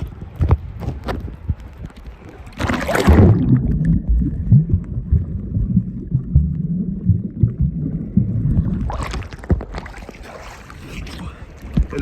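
High, rough sea waves surge and crash near a swimmer off a Greek shore, a loud churning wash with two bright splashing bursts rising over steady rumbling water.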